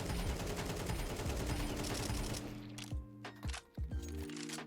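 Rapid automatic rifle spray in Counter-Strike 2, a dense loud burst of shots for over two seconds, then the firing breaks into shorter bursts and single cracks with gaps between them.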